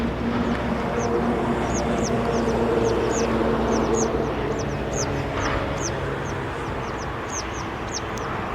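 Comb ducks call in short, repeated honking notes spread across the whole stretch, heard at a moderate distance over a steady low rumble of background noise, with no voices.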